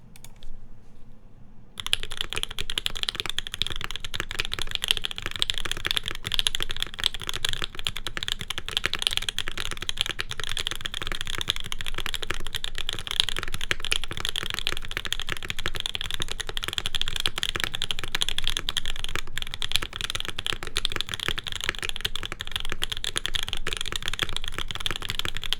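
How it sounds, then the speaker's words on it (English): Mode Eighty mechanical keyboard typed on rapidly and continuously during a typing test, a dense, steady stream of close keystroke clicks running about 25 seconds without speech after a brief quiet start. "At least for regular typing, I think it sounds pretty good."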